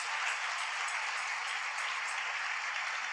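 A church congregation applauding loudly for the Lord at the close of a prayer in a Spanish-language service: dense, sustained clapping from many hands, steady throughout with no pauses or speech.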